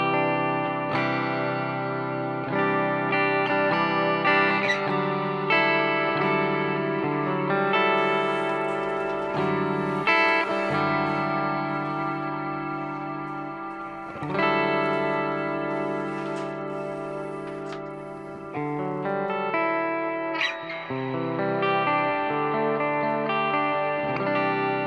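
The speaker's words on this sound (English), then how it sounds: "clean with a big ambient reverb." Electric guitar through a 5150 Iconic amp's clean channel with a big ambient reverb, playing slow arpeggiated chords and single notes that ring and blur into a long, washy tail, loud and upfront with no talking.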